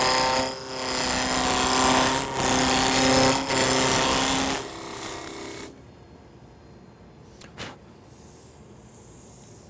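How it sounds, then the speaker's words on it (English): A spindle roughing gouge shears a wood blank round on a lathe for a cake pedestal, a loud rasping, chattering cut with rhythmic pulses that stops abruptly after five seconds, leaving a faint hum and a couple of knocks. "Use a spindle roughing gouge to make the blank round."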